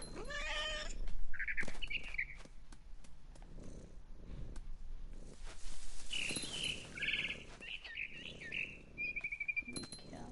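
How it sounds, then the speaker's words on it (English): Cat in the video game What Remains of Edith Finch, meowing and yowling among thuds and scuffles, with high bird chirps scattered through, close and fairly loud. "I was a cat."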